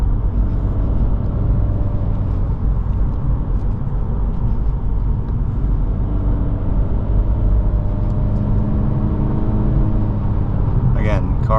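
A 2023 Acura Integra A-Spec's engine rumbles steadily from inside the cabin while driving, a low continuous drone with road noise, and a person talks over it.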